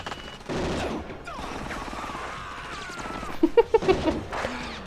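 Gunfire bursts in a scene from the RoboCop movie, a cluster of sharp cracks near the end layered over a dense score and effects mix, loud and close.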